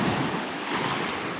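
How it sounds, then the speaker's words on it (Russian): Sea surf rolling onto a Crimean shore, a steady broadband wash of waves with wind noise, loud and close, filling the whole moment with no voices. "давайте немножко шума прибоя вам"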